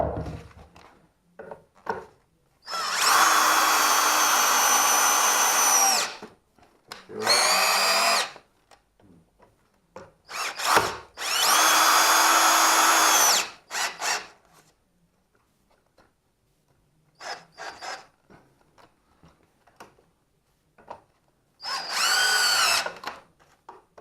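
A power drill drives into an iron pipe in three long bursts of steady high-pitched whirring, with shorter spurts and light tapping in between, fairly close and with no talk.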